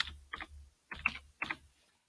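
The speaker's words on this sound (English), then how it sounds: "If I come into my browser here and type in Hotjar" Someone types on a computer keyboard, four short clusters of close key clicks spread over about two seconds, with no talk.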